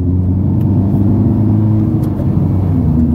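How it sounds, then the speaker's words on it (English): Honda Civic Type R engine on a Hondata fuel system, running rough, a loud steady low rumble with uneven idle texture held close throughout. "Well, my car's not sounding too good."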